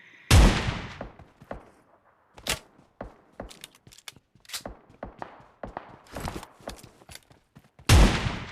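Gunfire from an M416 and AWM in PUBG while finishing a knocked enemy: sharp close shots, a few heavy single blasts and scattered lighter bursts across the stretch, separated by short silences.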